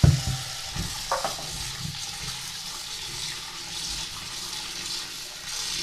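Water splashing and draining as taro stolons are rinsed in a bowl, a brief splash at the start followed by a steady soft hiss of running water, close and moderately quiet.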